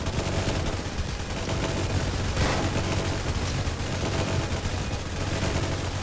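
Rapid, continuous minigun fire in Roblox Tower Defense Simulator, dense overlapping shots with a steady loud rattle and no pauses.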